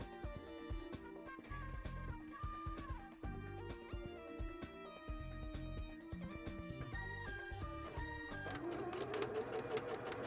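Sewing machine stitching bra fabric to hold a seam to one side, a close, rhythmic mechanical run of needle strokes that shifts speed near the end.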